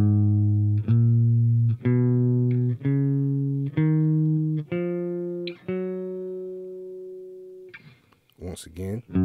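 A guitar plays the major scale in single sustained notes, each plucked and then slid up to the next, steady evenly spaced steps rising over about eight seconds, close and clear, ending in brief handling noise.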